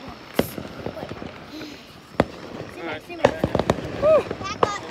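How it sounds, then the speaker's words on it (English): Colored firework bombs bursting at a Fourth of July outing, several sharp booms scattered through the clip with crackle and whistling trails, while people talk nearby. "These are supposed to be colored bombs?"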